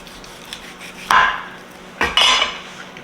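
A sharp knife slices through double smoked holiday ham from a pellet cooker, giving two short, close cutting strokes with a scraping edge, no talking.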